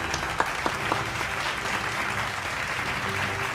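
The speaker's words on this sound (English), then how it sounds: "Let's give him a round of applause." Audience applauding at a high school graduation ceremony, a steady wash of many hands clapping through the whole stretch with a few sharper claps near the start, moderately loud and with no talking over it.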